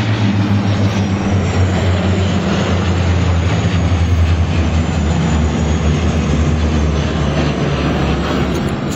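Canadair water bombers making another low pass overhead, a loud continuous propeller-engine drone that fills the whole stretch, close and sustained with no talking.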